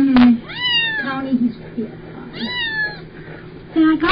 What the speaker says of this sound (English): Connie, are all six of the kitties in Cap's corner room?